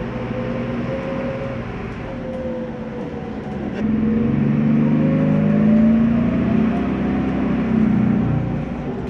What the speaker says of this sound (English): we were back to the same wee bus to run us across to the terminal building